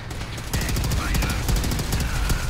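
A plasma rifle fires rapidly in Fallout 4. A dense, loud burst of repeated shots starts after a brief quieter lead-in and continues steadily to the end.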